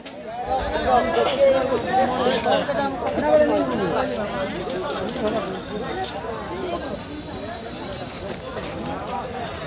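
A thick hubbub of shoppers and vendors fills the crowded weekly market at Saintala, many voices overlapping near and far with scattered clatter, steady for the whole stretch.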